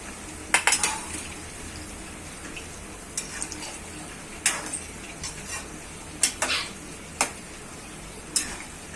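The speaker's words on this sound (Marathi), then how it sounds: "आता आपण शिमला मिरची आणि हा कांदा चौकोनी कापलाय ते हे फ्राय करून घेऊया" Diced capsicum and onion being fried in a pan with partly fried potato, for veg chilli or Manchurian: a steady faint sizzle beneath sharp clinks and scrapes of a utensil stirring the vegetables, coming in irregular bursts, with no talk.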